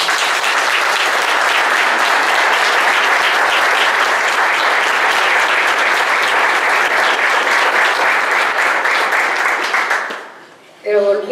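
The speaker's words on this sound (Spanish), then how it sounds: "pido un fuerte aplauso para Angelita León" Loud, sustained applause from a neighborhood audience at a town festival proclamation in Juncal de Tejeda, dense clapping lasting about ten seconds before fading, then a brief voice.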